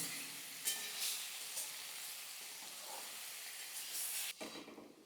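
Oil sizzles and hisses steadily in a pan as vegetables fry for a village-style drumstick flower curry, a soft continuous crackle with a few brief sharper spits and a stir near the end.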